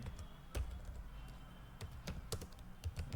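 Clattery keystrokes on a computer keyboard tap out in irregular bursts, close and fairly quiet, with short pauses between clusters of keys and no talking.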